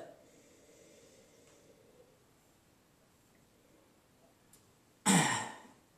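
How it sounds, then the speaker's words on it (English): A single short, sharp sniff of a glass of rosé wine close to the microphone after a quiet stretch. "So let's give it a sniff."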